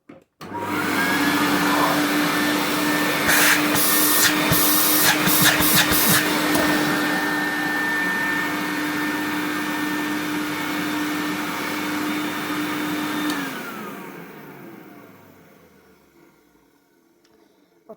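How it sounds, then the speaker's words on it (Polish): A 1976 Predom Zelmer type 51 vacuum cleaner runs steadily as a loud, continuous whine and roar with a sustained tone, then spins down and fades out near the end. "Odkurzacz nie, nie należy do najcichszych, no ale cóż, nie jest też najgłośniejszy"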